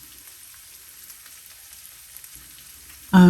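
Turkey sausage and peppers sizzle softly in a frying pan, a faint, steady crackle, until a sudden loud scrape or clatter erupts at the very end.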